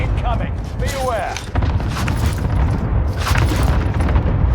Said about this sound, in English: Airstrike incoming. Be aware.